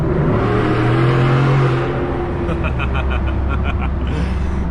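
Pickup truck with a 5.0 engine accelerating on a freeway, a loud engine hum and road roar building steadily, with cabin noise and faint rhythmic clicks.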